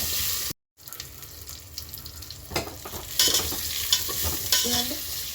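A spoon stirs hing, cumin and fenugreek frying in a small amount of oil for a Telangana lentil dish tempering, with soft scraping, light sizzling and a brief gap of silence near the start.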